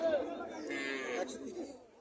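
Sahiwal-breed dairy cows at the Mirshanni cattle market in Comilla, with a drawn-out moo rising over crowded market noise and faint background chatter.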